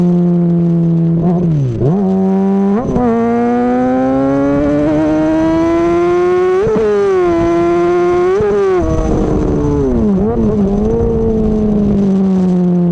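A 600cc sport motorcycle on a mountain road revs hard and close, its engine note climbing steeply, dropping between gears, then soaring again in loud, screaming pulls.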